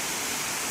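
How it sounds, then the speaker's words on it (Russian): A jungle waterfall at Adahelena Ella roars as a constant, dense rush of falling water, loud and unbroken across the short moment. "Сходили мы, значит, на водопад."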